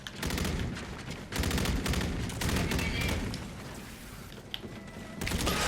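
Rapid automatic gunfire from a weapon in a video game, dense bursts of shots that come and go, with brief pauses between volleys.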